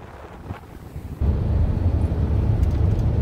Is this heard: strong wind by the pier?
yes